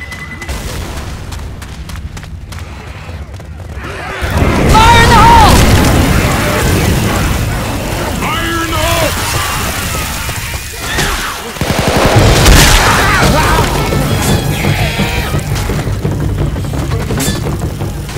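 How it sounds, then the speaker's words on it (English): A loud grenade blast booms through a video game firefight, followed by rumbling explosions and scattered gunfire, with a voice calling out in the mix. "Grenade!"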